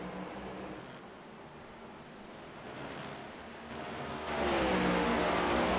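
Race car engines roaring in an ENSCAR stock car racing video game, a steady broadband drone with a surf-like whoosh that swells louder toward the end as the cars pass close.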